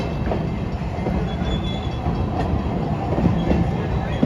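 The Big Bad Wolf roller coaster train sits in its station at Busch Gardens, giving a steady mechanical rumble with faint clicking, heard at a moderate distance with no voices.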